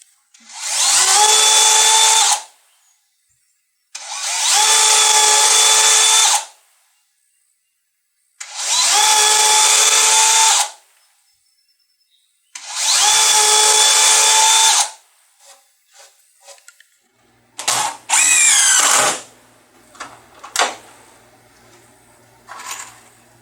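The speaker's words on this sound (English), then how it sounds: "we'll drill pilot holes and screw them down" A power drill runs in four long bursts of about two seconds each, drilling pilot holes, followed by shorter clicks, clatter and brief whirs as screws fasten casters to a mobile miter saw table.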